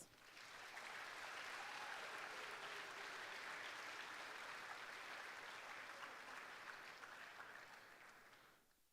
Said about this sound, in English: Give our junior class a round of applause.